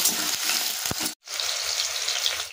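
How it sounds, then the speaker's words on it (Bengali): Chopped onions frying in hot oil in a home kitchen pan, a close, bright sizzle that cuts out briefly near the middle and then resumes steadily, with soft stirring scrapes underneath. "পেঁয়াজটা একটু ভাজা ভাজা হবে, তারপর আমি কেটে রাখা আলুগুলো এতে দিয়ে দেবো।"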